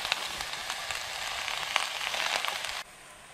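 Yucca pieces sizzle and fry over a campfire in the desert, a steady crackling hiss close up with small pops throughout, cutting abruptly quieter near the end.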